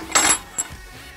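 Two quick metallic clinks ring out close by as a steel pin is pulled and a washer removed from a Collier and Miller deep ripper's depth adjustment, the second clink softer than the first.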